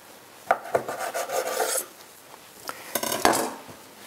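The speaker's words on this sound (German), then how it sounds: "Und dann werden wir da unsere Rollen herunterschneiden." A knife slicing rolled pastry dough into rolls, with a few sharp knocks of the blade on the board and softer scraping cuts between them, close by and without talk.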